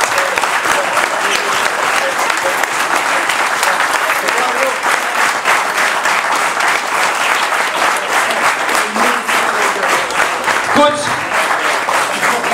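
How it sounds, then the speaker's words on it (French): Crowd applauding the players after a rugby match, a loud, dense and continuous roll of clapping from many hands, sustained for a long stretch with voices mixed in. "Et les 10 secondes là qu'on va faire, c'est pour vous applaudir."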